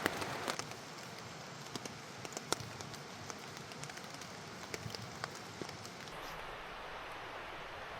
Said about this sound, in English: It is pouring rain outside now, which is not going to be fun to go out in